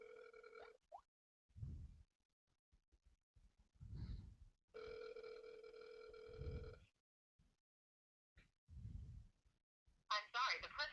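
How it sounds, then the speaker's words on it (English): A telephone call rings out unanswered before reaching voicemail, several electronic ring bursts separated by gaps, with someone talking in between. "And Brock, I'm trying to call you."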